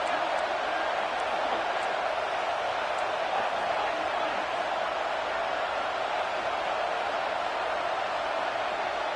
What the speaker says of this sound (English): Crowd is at fever pitch.